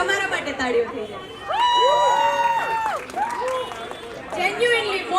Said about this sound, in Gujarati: એકવાર તમારા માટે તાળીઓ થઈ જાય.